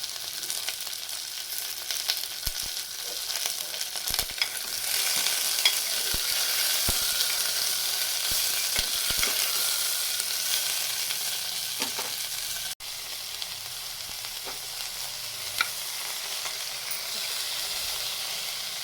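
Green peas sizzle in a hot pan, a steady hiss of frying broken by occasional scraping taps as they are stirred. The sound stays even throughout, with no talking.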